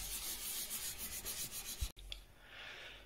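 Cloth rubbing a surface soaked with 99% isopropyl alcohol while assembling an IKEA BILLY height extension unit, a close, steady scrubbing in repeated strokes that stops abruptly, followed by a quieter soft wipe.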